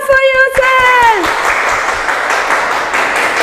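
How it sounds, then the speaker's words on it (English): A kindergarten class of young children claps for themselves during an English alphabet lesson; a brief sung, falling voice opens, then a busy, sustained patter of small hands follows at close range. "Clap for yourself."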